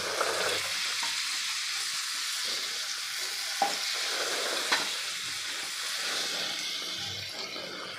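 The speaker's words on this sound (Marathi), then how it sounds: "आपण जी वांगी कट करून घेतलेली ती सगळी आपल्याला यामध्ये घालायची आहे" Cut eggplant pieces are tipped into a hot pan and stirred for a Marathi vegetable dish, giving a steady close sizzle with a few soft clicks of the spoon and no voices.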